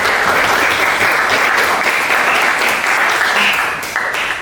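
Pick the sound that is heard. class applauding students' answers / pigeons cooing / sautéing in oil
class applauding students' answers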